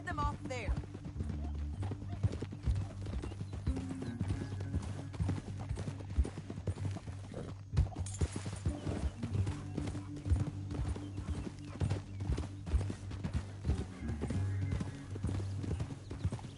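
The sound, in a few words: horse hooves clip-clopping and neighing in Red Dead Redemption 2 video game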